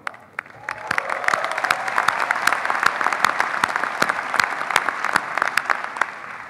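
A graduation audience at a university engineering commencement breaks into sustained applause, a dense wash of many hands clapping loudly and steadily throughout, swelling after the first second and holding strong to the end.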